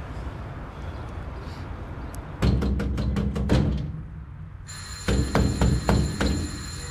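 A telephone rings after a number is dialed, its repeated bell bursts loud and steady over a noisy indoor room tone, with no speech.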